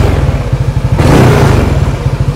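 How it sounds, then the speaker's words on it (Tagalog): Yamaha Nmax 180cc scooter exhaust pipe, loud and close, idling with a throbbing low beat before a brief rev swells in the middle and drops back to idle. "Ito dapat yung tunog ng pipe ko eh."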